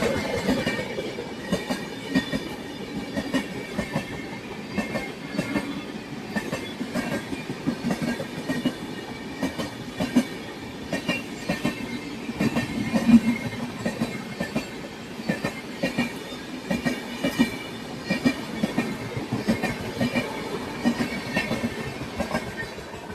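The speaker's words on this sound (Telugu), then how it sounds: "కొర్బా కొచ్చివెల్లి ట్రైన్ సూపర్ ఫాస్ట్ ట్రైన్, కాకపోతే స్లోగా వెళ్తుంది" A Korba–Kochuveli superfast express runs slowly, its wheels beating out a steady, close clickety-clack with a faint squeal over a continuous rumble, and no voices.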